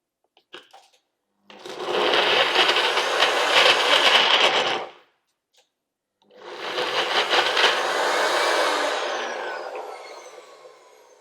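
A blender whirs through a garlic lemon sauce in two loud bursts of about three and five seconds, separated by a short pause, the motor strained and buzzing up close.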